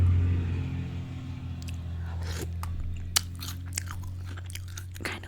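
Someone crunches and chews Cheerios Pumpkin Spice cereal close to the mic, with sharp irregular crunches over a steady low hum.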